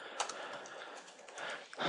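Rapid typing on a computer keyboard, a steady patter of close key clicks with a louder burst of keystrokes near the end, no voices.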